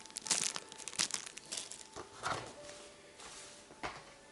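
Packaging for a wireless gaming keyboard is crinkled and handled during unboxing, giving soft, irregular plastic and paper crackles in short bursts, quiet and close.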